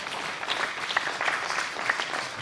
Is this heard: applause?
yes